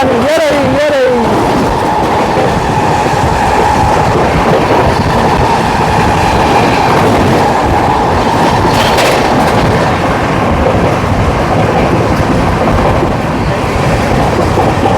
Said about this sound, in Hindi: दोस्तों हमारी क्रॉसिंग होने वाली है अब भुवनेश्वर राजधानी एक्सप्रेस के साथ